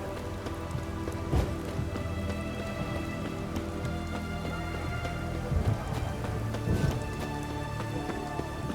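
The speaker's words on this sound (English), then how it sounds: "It's raining." Steady rain in The Witcher 3 video game patters on a surface, with occasional louder drops and light thuds mixed into the continuous wash.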